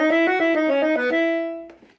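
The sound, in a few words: reed instrument playing one bar on the default reed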